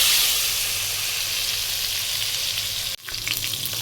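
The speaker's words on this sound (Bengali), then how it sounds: "আলু ভাজতে বসিয়ে দিয়েছি তার মাঝখানে কিছু গোটা পেঁয়াজ আর গোটা রসুন ভালো করে ওর সাথে ভেজে নেব আমি" Potatoes frying in hot oil together with whole onions and whole garlic, a loud continuous crackling sizzle close up, briefly dipping near the end before resuming.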